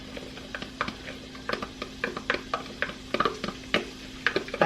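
About six cloves of minced garlic cook in butter in a pan, with a soft steady sizzle broken by repeated scraping stirs and light clinks of a utensil, close and fairly quiet.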